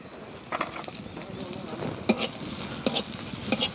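Whole green chillies drop into hot oil in a pan of Bengali tel koi fish curry, giving a steady close sizzle with a few sharper crackling spikes as they hit and are stirred.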